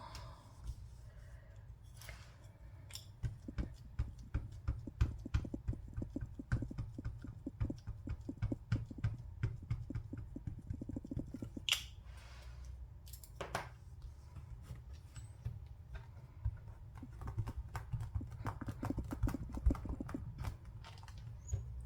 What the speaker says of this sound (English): All right, let's get stamping for real.